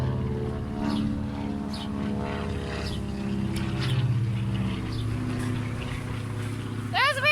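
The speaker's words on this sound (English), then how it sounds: "The Beechcraft just went over." A Beechcraft propeller airplane drones overhead at an airshow, a steady humming engine tone that swells and fades as it passes, with people talking nearby.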